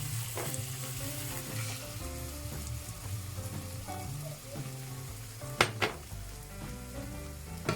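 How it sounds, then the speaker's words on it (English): Tomatoes fry in a pan with eggplant and vegetables, giving a steady close sizzle throughout while a utensil stirs and scrapes, with a couple of sharper knocks against the pan near the end. "Give it a quick stir."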